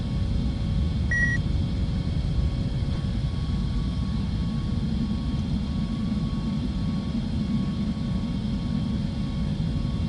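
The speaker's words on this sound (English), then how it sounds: "the sound changes when you're in the cockpit, so it's a bit quieter and it's more of a hum" A steady low airplane engine hum heard from inside the cockpit in the video game Flight Simulator Evo, a continuous muffled drone with a faint electronic beep near the start and no talking.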